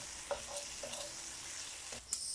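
Chopped onion goes into a hot pan with peppers for a carbonara, a soft steady sizzle with a few light stirring taps, faint and close, no voices.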